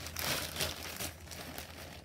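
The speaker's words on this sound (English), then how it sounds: "A plastic bag" A plastic bag crinkles in a home kitchen while bread rolls are being prepared, a soft continuous rustle lasting about two seconds with a low steady hum underneath.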